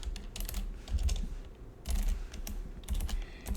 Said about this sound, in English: I'm now going to type print